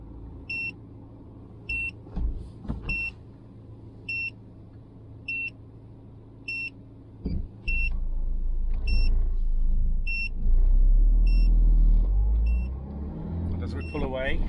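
A Haloview Sophon S7 AI vehicle warning system beeps in a regular series of short, sharp tones inside a moving vehicle, over low road rumble that swells as the car accelerates.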